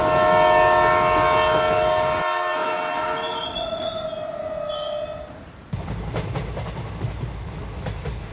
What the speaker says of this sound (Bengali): তারপর যথারীতি রানাঘাট স্টেশনে ট্রেন ঢুকল।